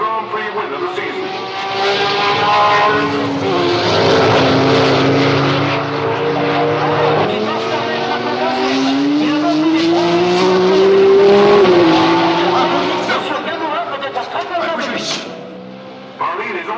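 A 1966 Ferrari Grand Prix race car roars past loudly and steadily, its engine note rising and sweeping in pitch before fading slightly.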